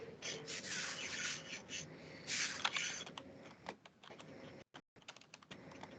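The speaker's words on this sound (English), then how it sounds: "Who's typing? I hear typing." Typing on a computer keyboard, a soft, fairly quiet run of clustered key clicks and taps with irregular rhythm and brief pauses, with no one talking over it.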